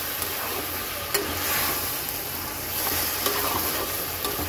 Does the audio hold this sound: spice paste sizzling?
yes